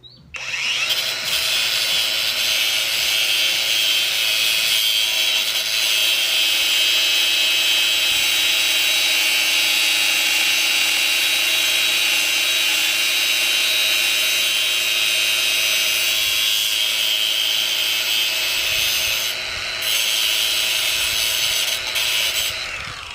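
An angle grinder runs continuously in a garage while someone tries to light a campfire with its sparks, a loud, steady, high-pitched whir held close for over twenty seconds with small load changes.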